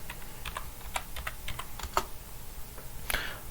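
Quick bursts of keystrokes as a password is typed on a computer keyboard, close, crisp clicks in an irregular rhythm with short pauses between groups.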